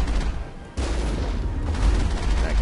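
Rapid gunfire in the Mass Effect video game, bursts of shots layered over a low rumble, loud and continuous after a brief quieter opening.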